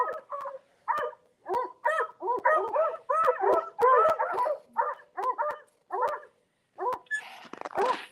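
Several dogs bark in rapid, overlapping yips and woofs, loud and close, with a few brief pauses between volleys, outdoors in extreme cold around forty below.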